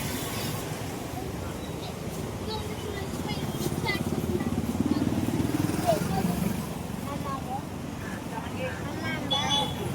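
Road traffic outside a home in the morning, with vehicles such as motorbikes passing at a moderate distance and a steady low rumble that swells and fades, heard under talk.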